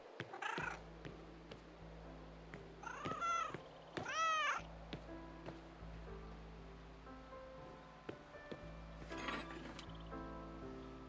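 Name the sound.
cat meowing, from the video game Broken Roads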